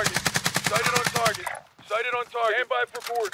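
Rapid automatic gunfire in Call of Duty Warzone, loud and close, fires in a steady stuttering burst for about a second and a half, then cuts out as a voice starts talking.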